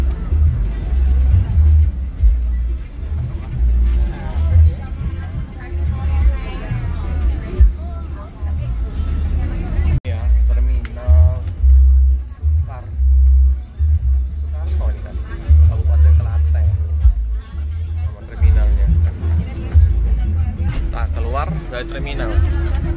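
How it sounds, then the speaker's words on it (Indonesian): Inside a moving medium-size Langsung Jaya bus on the way to Giwangan terminal, a loud continuous low engine and road rumble swells and eases as it speeds, with people talking over it throughout. "Nah, ini naik langsung Jaya, bus medium."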